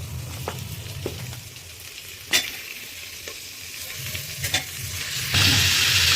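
Chicken pieces sizzle and fry in a pan of already-fried onions over a low gas flame for a chicken stew, a steady close hiss broken by a few sharp stirring clatters, swelling louder near the end.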